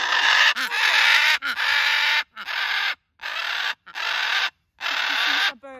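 A hyacinth macaw lets out a run of about six loud, harsh, raspy screams close by, each lasting under a second, separated by short silent gaps.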